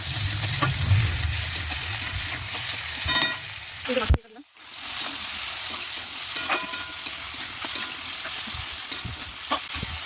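Potatoes frying in fish oil while being stirred, a close dense sizzle with repeated spatula scrapes and clinks, briefly cutting to near silence midway before the sizzling and stirring return.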